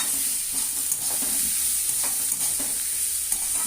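Bottle gourd frying in a pan with a little turmeric gives a steady, loud sizzle throughout, broken by light stirring clicks.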